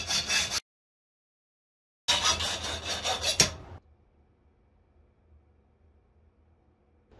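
A hacksaw cuts a bird call blank to length with rapid rasping strokes in two bursts, the second ending abruptly, close and loud against near silence.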